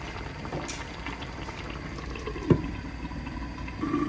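Kerala-style crab curry bubbles in a covered pot, a steady soft simmering hiss with occasional pops and one louder burst of bubbling.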